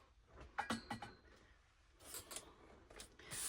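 Scissors snip through a paper colour plate taken from a book, a few short close crisp cuts with rustling paper between them, no talking.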